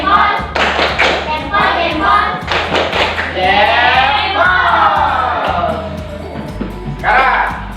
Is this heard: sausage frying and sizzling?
no